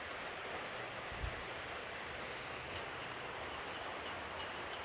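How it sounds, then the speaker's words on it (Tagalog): Steady rain falls with a dense, even hiss and a few soft thuds, fairly close and continuous throughout with no talking. "Ulan, ulan."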